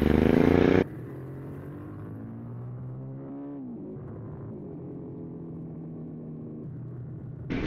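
A Harley-Davidson Sportster S engine hums at a steady cruising note while riding, with a low continuous drone, a short loud burst at the start and a slight pitch shift partway through.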